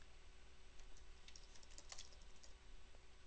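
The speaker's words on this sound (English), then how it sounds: "And when I'm typing something" Quick, light keystrokes tap on a computer keyboard in a short cluster of clicks, faint and close, with no talking.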